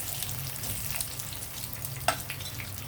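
Seasoning spices fry in hot oil for an ivy gourd fry, a steady close sizzle and crackle with one sharper pop partway through.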